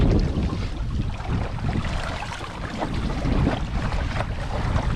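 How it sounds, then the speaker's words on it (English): Strong wind blows steadily across a heavy sailboat running downwind with a double-reefed sail at about force 5 off eastern Sweden. The roar is loud and constant, with gusty swells and water wash mixed in and no talk. "And it's still windy."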